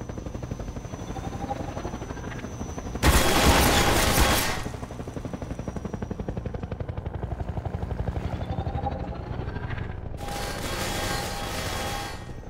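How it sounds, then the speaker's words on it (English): Attack helicopter in Half-Life 2 gameplay, its rotor throbbing steadily throughout, broken by two loud bursts of rapid machine-gun fire, the first longer and harsher, the second shorter toward the end. "This helicopter is a huge problem."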